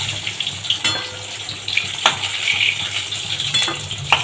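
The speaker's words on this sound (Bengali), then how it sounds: "পটলগুলো খুব সুন্দর করে ভাজতে হবে" Pointed gourd (potol) fries in oil in a kadai with a close, steady hiss broken by sharp crackles and a few soft utensil taps, with no speech.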